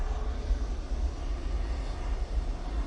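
Ryanair Boeing 737 MAX 8 airliner at Manchester Airport, a steady deep jet engine roar with a broad rumbling hiss, held at an even level throughout without any pause.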